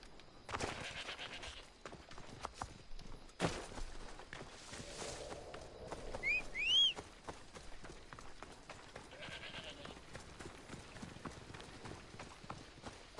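Faint hoofbeats from a horse in Assassin's Creed Odyssey play under busy game ambience, with soft clip-clop steps, brief bird-like chirps and scattered clicks.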